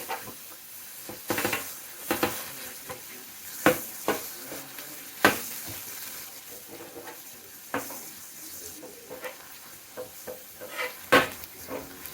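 Chicken and shrimp sizzle on a hot hibachi griddle, with a steady frying hiss broken by sharp clicks and scrapes of a metal spatula against the flat top, close and fairly loud, with no talking.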